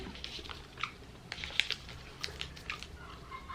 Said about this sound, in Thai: มีความแบบเคี้ยวหนึบหนึบแต่ว่าเคี้ยวง่ายกว่า